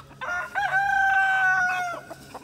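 Blue slate turkey hen making affectionate sounds: a close, soft series of purring, warbling calls, rising into a sustained trilling whine for over a second before easing off, with no talking.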